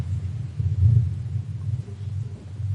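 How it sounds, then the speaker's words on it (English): A low, steady rumble like distant thunder or passing jets rolls on without a break, swelling slightly partway through, faint and far off with no talk over it. "I hear some strange thunder in the. Does anybody hear that?"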